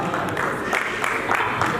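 A crowd at a club charter night celebration gives a brief, steady burst of applause, a dense wash of clapping with no pauses.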